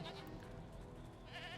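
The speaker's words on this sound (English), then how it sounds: "More goats!" Goats bleating in the video game Jade Empire, several overlapping nasal bleats running steadily through the short stretch at moderate loudness, with no talking.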